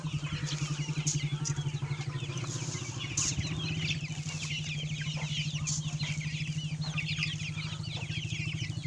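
Several chickens cluck and chatter nearby among ducks over a steady low engine-like drone, with scattered bird calls throughout.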